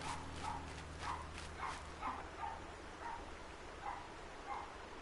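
A puppy barks repeatedly in the background, about eight sharp yaps spaced roughly half a second apart at a steady rhythm, faint and distant under a low hum, with no one talking.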